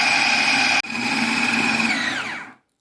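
An electric blender grinds fish meat in a loud, steady whirring drone that cuts out for an instant, restarts, then slows and stops, leaving silence.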